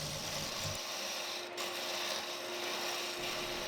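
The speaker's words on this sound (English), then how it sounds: "Here I'm making a pretty deep cut into the wood" A chisel on a Harbor Freight wood lathe digs deep into a spinning farmhouse candlestick blank, giving a steady, close, rasping scrape over the machine's constant hum.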